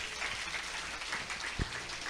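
A church congregation at a joint worship service applauds together in a steady, dense patter of many hands clapping, heard from a moderate distance throughout.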